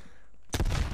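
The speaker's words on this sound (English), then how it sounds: "I'm using a shotgun." A shotgun blast in Black Ops Cold War erupts after half a second of near-silence, a single loud, close boom with a rough, rumbling tail that fills the rest of the moment.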